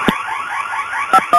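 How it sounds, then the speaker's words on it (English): A building alarm system goes off with a loud, close electronic tone that holds steady and warbles, punctuated by sharp pulses at the start and end. "The alarm system at 530 9th Street West is in alarm."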